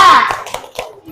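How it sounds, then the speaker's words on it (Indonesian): A third-grade class in an Islamic religious education lesson doing the rhythmic tepuk semangat spirit clap, a few sharp group claps after a chanting voice, close and fairly loud. "Sebelumnya kita tepuk semangat dulu ya."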